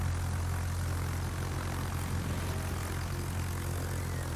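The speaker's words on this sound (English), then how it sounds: "my plan is to use these rocket planes and then shoot right after" Rocket planes in World of Warships droning overhead, a steady propeller-engine hum with a deep low rumble, continuous throughout with no talk.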